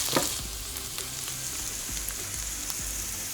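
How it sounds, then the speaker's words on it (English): Chopped onion sizzling and frying in hot oil in a pan while cooking Yemeni dishes, a steady close crackle with a few stirring knocks and no voices. "We add some onion to the oil."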